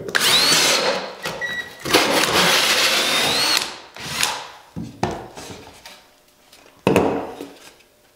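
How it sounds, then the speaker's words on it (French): A power drill fitted with a hole saw cuts a template, loud grinding bursts of spinning and biting, several runs of one to two seconds separated by pauses and a few shorter final spurts fading out. "On va prendre une drill avec une scie en porte-pièce, comme ça."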